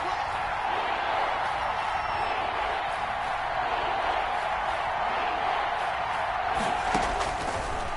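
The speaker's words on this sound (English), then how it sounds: "the crowd getting into it as we come up on a big third down" A stadium crowd in the football video game Madden 21 roars steadily ahead of a big third down, a dense, constant wash of cheering that holds loud throughout with a brief rise near the end.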